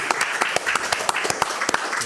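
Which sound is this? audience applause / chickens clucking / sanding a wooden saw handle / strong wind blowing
audience applause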